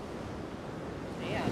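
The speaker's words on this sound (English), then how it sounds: "I could just sit here and listen to the waves all day" Ocean surf on an Outer Banks barrier island beach, a steady wash of breaking waves with wind noise that swells slightly toward the end.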